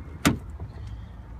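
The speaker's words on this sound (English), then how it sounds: "let's just open the door" A 2012 Mazda 3 car door gives a single sharp click as its latch releases, quiet and close, followed by faint cabin stillness.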